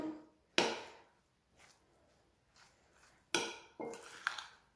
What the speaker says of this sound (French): Je reviens mélanger, puis moi aussi je vais couvrir.